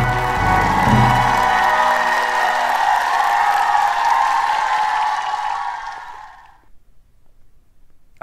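A church congregation at a New Year blessing revival service claps and cheers together, loud and dense at first, then thinning and fading away to near silence toward the end.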